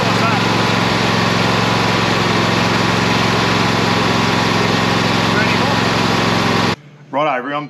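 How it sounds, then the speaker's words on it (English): Ride-on lawn mower engine droning steadily nearby, a constant loud mechanical hum with a low rhythmic throb for nearly seven seconds before cutting off abruptly, followed by a moment of talk. "old mate started his ride on Lawn Mower up over the road"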